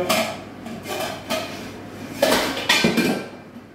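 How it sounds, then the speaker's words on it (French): A lid is lifted off a pot of heated water for cooking cachir, giving several metallic clinks and scrapes of the lid against the pot rim, close and moderately loud, with no talking. "Donc je vais enlever le couvercle."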